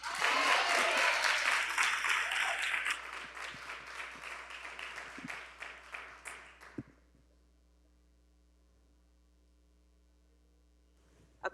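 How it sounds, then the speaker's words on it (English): An audience at a brain health talk gives a hand clap to welcome the doctor, a dense burst of applause that thins into scattered claps and dies out into near silence. "welcome Dr. Mosley with a good hand clap and amen"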